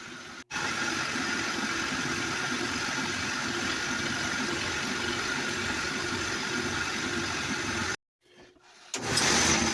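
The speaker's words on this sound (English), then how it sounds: "used a series of Forstner bits to hog out the center of this piece" Forstner bits hogging out the center of a pine cylinder spinning on a lathe, a steady dense grinding whir that runs continuously, then cuts off abruptly near the end before restarting, close and unaccompanied by talk.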